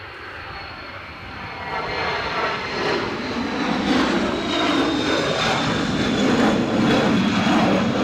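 At Edinburgh Airport, in strong wind of 40 mph and more, an airliner takes off with a broad, rising engine roar. The sound swells steadily and stays loud throughout.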